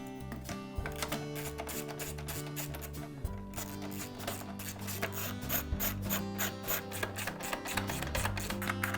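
Bolts being fastened to secure the blower housing on a lawn mower, with steady ratcheting and mechanical clicking from a hand tool, close and continuous, with no talking.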